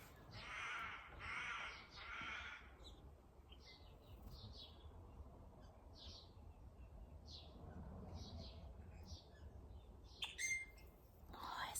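Crow caws ring out outdoors, three loud harsh calls in quick succession at the start, then a string of fainter, scattered caws and squawks over a low background rumble.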